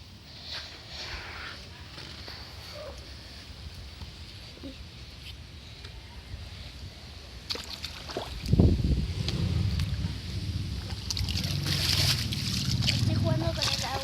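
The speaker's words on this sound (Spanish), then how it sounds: "Estoy jugando con el agua." Rainwater being splashed and sloshed by hand during a rainstorm outside a flooded spot, faint and close, with soft splashes growing busier and louder in the second half.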